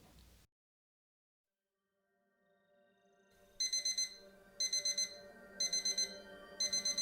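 After a moment of silence and a low rising hum, an alarm clock rings in repeated rapid bursts of shrill beeps, evenly spaced about a second apart.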